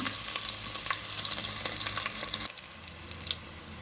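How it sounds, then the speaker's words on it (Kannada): Crushed garlic cloves and mustard seeds frying in hot oil for a chicken curry, giving a loud, dense crackling sizzle with popping that drops sharply to a quieter hiss partway through. "ಈಗ ಒಂದು ಆರು ಹೆಸರು ಬೆಳ್ಳುಳ್ಳಿಯನ್ನು ಜಜ್ಜಿ ಹಾಕ್ತಾಯಿದ್ದೇನೆ"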